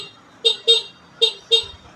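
A motorcycle horn is tested with four short, bright honks in two pairs, close and loud, with no talk over them.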